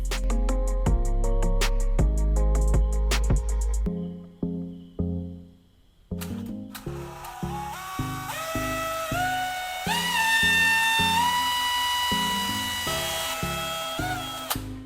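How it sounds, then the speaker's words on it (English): A drill fitted with a tiny bit bores shallow holes in carbon rods salvaged from old batteries, with steady high whining runs that pause and restart, and the pitch shifts as the bit loads into the carbon. "I'm going to attach a tiny drill bit to my drill, so I can make small holes in the 2 carbon pieces I just cut out"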